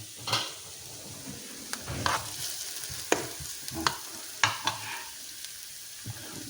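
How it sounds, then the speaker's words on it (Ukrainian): Chicken fries in oil in a pot for homemade soup while a utensil stirs it, giving a quiet sizzle with scattered clinks and scrapes at irregular intervals. "Ну і помішуємо. Трошки вона підсмажиться"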